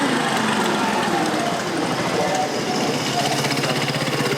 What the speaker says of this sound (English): A lot of motorbikes here.